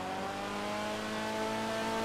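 Engine of a stolen police car in a video game revving steadily for about two seconds, a continuous loud droning tone with sustained harmonics and faint tire noise, no voices.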